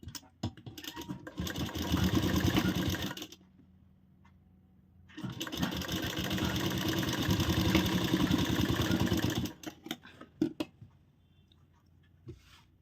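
Sewing machine stitching a gathered kaptan-style blouse, running in two long continuous bursts of steady motor whir separated by a pause, close and fairly loud with no talking.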